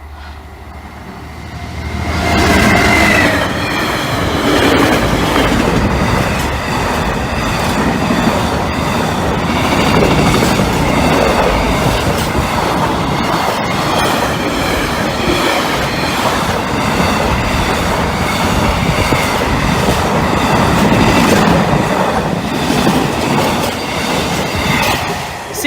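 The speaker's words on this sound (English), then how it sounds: "Is this freight late?" A freight train rolls past at a level crossing in Saxilby, a loud, steady rumble with continuous rhythmic wheel clatter and occasional squeal lasting the whole passage.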